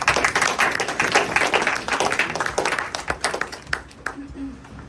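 A small group claps at an indoor meeting after a newcomer's question, the dense patter of hands thinning into scattered claps and fading out near the end.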